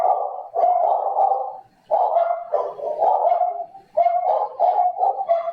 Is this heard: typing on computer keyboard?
no